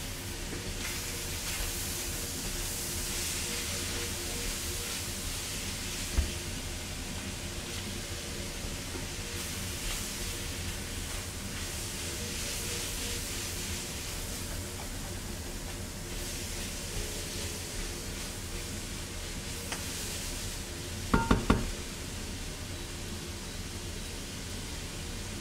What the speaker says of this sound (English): maybe I should turn the hood on